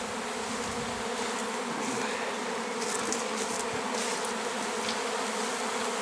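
A honeybee swarm settling on an apricot tree makes a dense, continuous buzzing drone, loud and close, with no voices over it.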